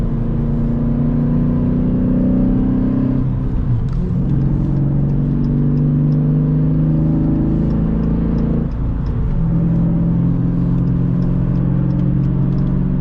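A small car engine of about 57 horsepower hums steadily as it drives along at speed, a continuous loud drone with slight pitch shifts that suggest gear changes partway through.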